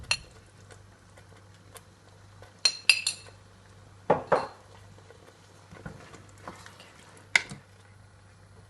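Metal utensil scraping and clinking against a pan while stirring burrito filling seasoned with salt, cumin and pepper, a few scattered clanks and taps over a quiet steady hum, with no voice.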